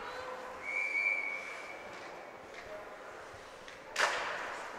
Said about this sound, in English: Puck whistled dead